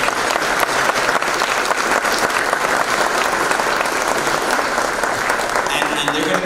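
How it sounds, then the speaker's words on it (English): An audience at a film festival red carpet event in Providence, Rhode Island applauds the sponsors, with loud, dense, sustained clapping from a crowd filling the whole stretch without a break. "Let's give them a round of applause."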